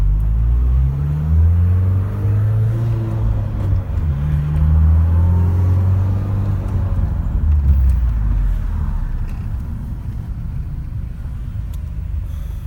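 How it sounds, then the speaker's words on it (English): Straight-piped R53 Mini Cooper S exhaust heard from inside the cabin while driving, a loud, deep droning rumble that rises and falls through gear changes and holds steady for the whole stretch. "I'm not gonna get much more in-cabin footage of the exhaust because it's really not that exciting"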